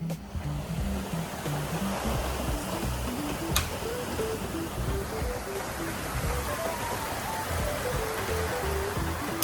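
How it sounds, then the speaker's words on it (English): Heavy rain pours steadily outdoors in Australia, a loud, constant broadband roar of downpour with no pause, close by and filling the whole scene. "But it is raining so hard."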